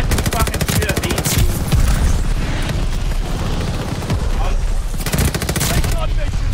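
Gunfire in Call of Duty Vanguard, loud, dense bursts of rapid automatic fire in long strings, with scattered shots and impacts between them.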